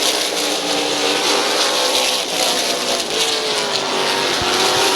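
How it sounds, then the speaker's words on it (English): Race cars run side by side for the lead at Midvale Speedway, a dense, loud, continuous engine roar with rising and falling pitch and no talk over it. "Bobby DeVore and Bob Page still side by side for the race lead."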